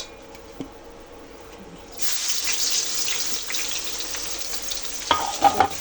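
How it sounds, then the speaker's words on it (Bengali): Onions lightly frying in oil in a pan, a soft steady sizzle that starts abruptly after a quiet moment and continues with a few louder crackles near the end, no talk. "আমি পেঁয়াজটা কিন্তু হালকা ভেজে নিচ্ছি।"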